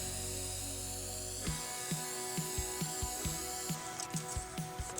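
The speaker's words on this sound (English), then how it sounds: "apply some spray adhesive to the walnut veneer" Short bursts of aerosol spray adhesive hit walnut veneer in a quick, fairly regular series of about a dozen soft puffs, close by but quiet.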